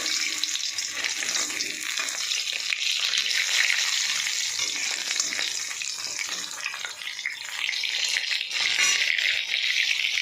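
Fish fries in hot oil in a pan, giving a loud, steady, dense sizzle that continues without a break throughout.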